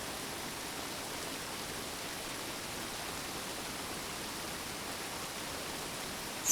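Steady, even rain falls in a green springtime forest, a soft continuous hiss that stays unchanged throughout, heard alone with no voices.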